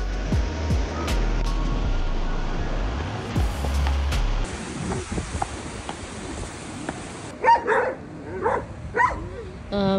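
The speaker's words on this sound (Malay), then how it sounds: "Ada anjing-anjing liar dengan anjing-anjing husky nak bergaduh di bawah kapal terbang." Stray dogs and huskies squabble beneath an airplane, with a burst of close barking early on followed by scattered yips and barks, mixed with outdoor background noise and some voices.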